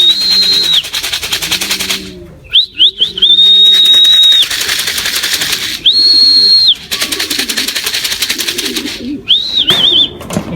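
Pigeons call in repeated whistled, warbling bursts over a low rumbling background, the calls loud and close and coming in several separate spells with short gaps between them.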